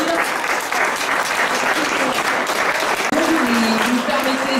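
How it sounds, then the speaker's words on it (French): An audience at a 2016 painting exhibition applauds the volunteers with a full, sustained round of clapping from a crowd indoors, while a voice carries on faintly beneath it. "les applaudir"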